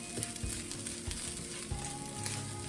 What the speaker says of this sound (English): take a minute and cook that flour out so that you don't get that taste